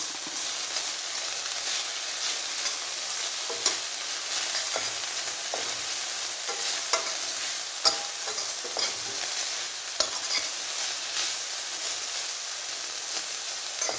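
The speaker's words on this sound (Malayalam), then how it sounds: "ഈ വെണ്ടയ്ക്കയും കൂടെ ഒന്ന് ഇളക്കി യോജിപ്പിക്കണം നല്ലപോലെ" Okra being stirred into an ivy gourd stir-fry in a pan, with a soft steady sizzle broken by repeated scraping and clinking strokes of a spoon, no voices.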